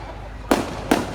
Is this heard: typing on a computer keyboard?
no